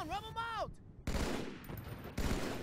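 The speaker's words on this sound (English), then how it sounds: "It's called a beam rifle." A Covenant beam rifle in Halo 2 lets off two loud, crackling bursts of energy fire, each hissing on for a moment, after a brief warbling electronic tone.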